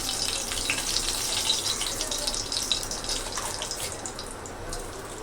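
Dried red chilies, four or five of them, dropped into hot oil for a Bengali-style rui fish kalia, giving a steady, close, even sizzle and hiss with light crackles throughout and no talking.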